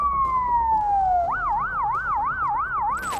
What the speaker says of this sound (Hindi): सायरन लगातार बज रहा था।